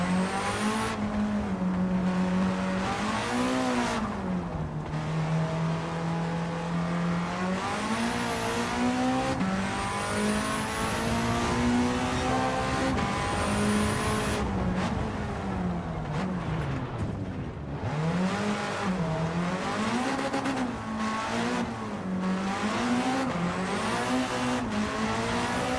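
A race car in Gran Turismo 7 driven backwards around a track, its engine loud and continuous, rising and falling in pitch as it revs and shifts, with a few tire squeals.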